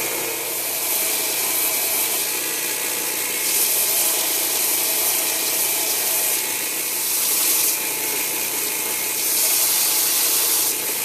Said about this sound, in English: let's get all this stuff sanded and then we'll get it stained